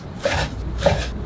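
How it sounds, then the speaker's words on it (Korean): A knife chops fish cake (eomuk) on a cutting board: two distinct, fairly close cuts land about half a second apart, with faint kitchen hum between them. "어묵은 반으로 자른 후에 좀 적당하게 먹기 좋게 잘라주세요"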